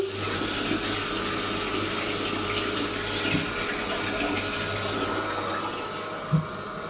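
Water pours steadily into containers from a motorized pump, a constant rushing and whirring drone with a faint mechanical clicking, close and continuous with a brief knock near the end.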